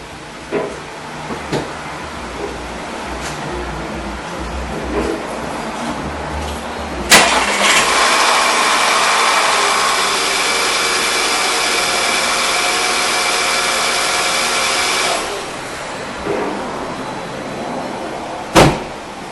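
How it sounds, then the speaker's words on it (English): A 2009 VW CC engine cranks and catches with a sharp burst, then settles into a steady, fairly loud idle that runs for several seconds before cutting off, with door thunks around the start and end. "We're going to start the car for just a couple of minutes"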